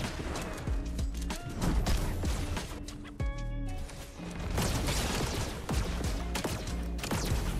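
Rapid bursts of Fortnite gunfire crackle densely and loudly, with a brief mechanical pause partway through before the shooting resumes.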